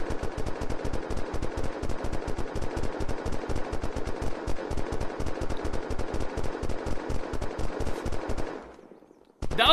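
Sustained automatic gunfire in the Unturned video game, a rapid, steady stream of loud shots for about nine seconds before cutting off abruptly, followed by a short final burst.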